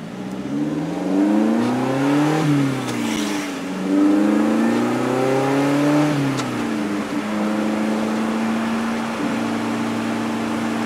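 A 2020 Lotus Elise Sport 220 engine drones loudly from inside the cabin while driving, its pitch rising and falling through several rev changes and downshifts, with steady road and wind noise underneath.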